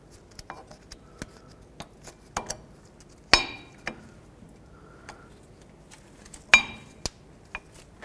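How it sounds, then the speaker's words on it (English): Front brake pads are slid onto the caliper bracket of a 1999-2007 GMC Sierra, producing a sparse series of close, sharp metallic clicks and clinks with a few louder knocks in between. "Now you can take your brake pads and slide these on."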